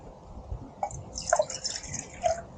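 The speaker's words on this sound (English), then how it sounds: "fill up my cup with the amount of water that I want" Water poured into a cup for coffee at a lightweight camp stove setup, a few soft drips and trickling splashes close by, fairly quiet with no talk.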